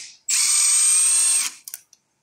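A power tool whines steadily for over a second as it loosens a lock bolt on a B275 tractor, then cuts off, followed by a few short ratcheting clicks.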